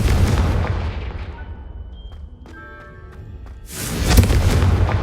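A Confringo fire-blast spell from the Hogwarts Legacy video game: a loud, close roaring explosion fades over about two seconds, bright magical chiming rings briefly, then a second harsh crackling burst erupts and sustains to the end, with no talking.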